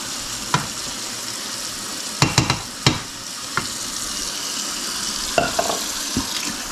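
Chicken rice soup cooking in a hot pot gives a steady sizzling hiss with scattered sharp clicks and knocks of a utensil, close and fairly loud, with no talking.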